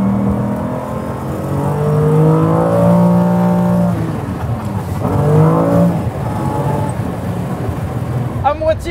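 A Lamborghini Diablo engine revs hard and close in two rising, howling surges during a burnout with a slipping, dying clutch, each wail climbing then falling away.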